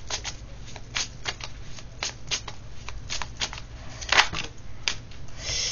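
Oracle cards shuffled by hand in a steady run of crisp riffling and flicking bursts, close and fairly quiet, with no speech over them.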